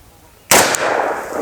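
Single sharp, loud gunshot from a Glock fitted with a 6.5-inch KKM barrel firing 10mm Underwood 135gr rounds, with a brief echoing tail at an outdoor range.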